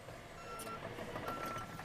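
Backup alarm on a 1050K dozer, a faint, steady electronic beeping in the distance over a low engine hum.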